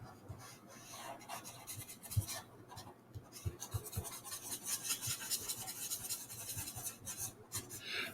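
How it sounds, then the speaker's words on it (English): Board eraser rubbing and scraping across a board, a steady dense scratchy swish with repeated strokes over several seconds, close up and without talk. "now let me go ahead and erase a lot of this over here"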